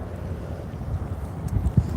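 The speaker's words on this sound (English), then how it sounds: "Like with wind, it's 20-ish miles an hour. Definitely gusts as high as 30 miles an hour right now." Strong gusty wind roars along a road outdoors at about 20 mph with gusts near 30, buffeting close to the microphone in a low rumble that swells and thumps in sharper bursts toward the end.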